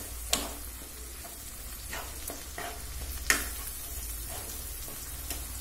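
Gravy for a spicy prawn curry (kosha chingri) bubbling in a pan over a gas flame, a soft steady sizzle with a few brief stirring clicks, close but quiet, with no talk.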